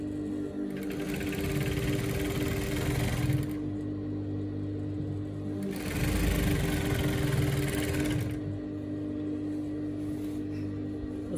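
A sewing machine stitches the lower side and hem of a mini pencil skirt with a double front slit, running in two sustained bursts of steady mechanical whirring with a brief slower pause between them.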